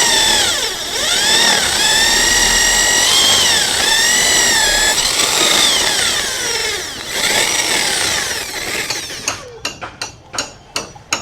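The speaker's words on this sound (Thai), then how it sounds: "เจาะเพื่อใส่น็อตพี่น้องนะ" A power drill boring holes for bolts through corrugated zinc roofing sheets, whining loudly and steadily with shifting pitch, then breaking into a series of short sharp bursts at the end.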